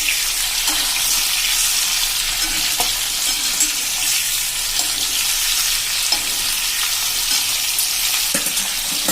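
Capsicum and potato chips for a Punjabi-style curry frying in oil while being mixed, making a dense, constant hiss of sizzling with faint periodic spoon scrapes underneath, close and steady, no voices.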